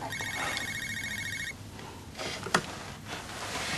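A telephone rings in a domestic scene with a fast, bright electronic ring for about a second and a half, then stops, followed by faint background rustling.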